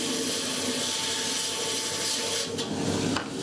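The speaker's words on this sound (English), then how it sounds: "cut about a triangular slice off of this" Rock saw cutting a triangular slice off a Dryhead agate, a steady, loud grinding rasp that runs continuously with little change, ending with a couple of brief shifts.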